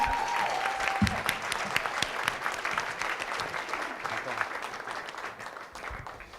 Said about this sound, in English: Please give it up for Jeff Maisey. Clap for Jeff.